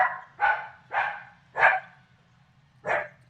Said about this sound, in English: stop barking before I put you outside